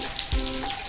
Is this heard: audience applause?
no